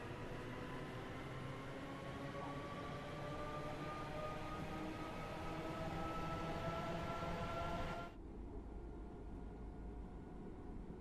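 Passenger electric train in Train Sim World 3 on the Cathcart Circle near Glasgow, a steady rolling rumble with a rising whine that cuts abruptly to a duller, quieter interior hum near the end.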